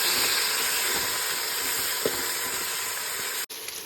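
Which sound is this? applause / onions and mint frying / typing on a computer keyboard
onions and mint frying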